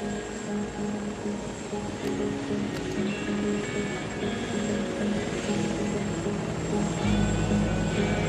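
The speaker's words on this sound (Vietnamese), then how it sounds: "Đại chỉ huy Nam, máy bay số 6 đang bay về đội phục vụ bay." An airplane flies back in toward an airfield in a dubbed action drama, its engine droning steadily and loud for the whole stretch with a deepening rumble near the end.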